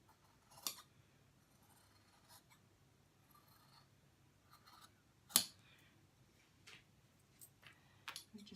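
Scissors snip out a fabric pattern piece for a boy's shirt, a few quiet, sparse cuts with one sharper snip standing out against a faint, still background.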